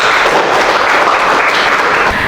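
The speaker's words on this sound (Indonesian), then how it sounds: "Beri tepuk tangan untuk kelompok 4." A classroom of students claps for a presenting group, a dense, steady wash of applause that fills the whole stretch at close range and stays loud throughout, with no voices breaking through.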